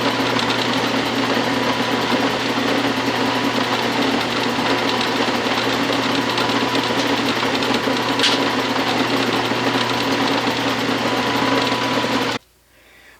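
A lathe machining a rough lead flywheel casting, giving a steady, even mechanical whir with a constant hum that runs for about twelve seconds before cutting off abruptly.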